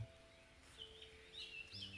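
Small birds singing in a quiet mountain valley beside a dahlia garden, with a few thin, high chirps and short trills drifting in faintly from a distance over a soft, hushed background.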